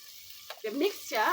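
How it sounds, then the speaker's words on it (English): A cooking stick stirs a vegetable mixture of cut capsicum frying in a pan in an East African village kitchen, giving a soft scraping, sizzling swirl that swells in two close strokes. "I'm using my cooking stick to stir them."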